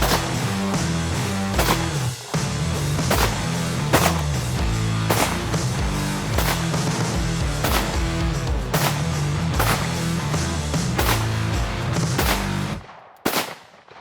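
Shotgun shells blast into wooden tables in a rapid, evenly spaced string of loud, close booms, about a dozen shots, before ending in near silence.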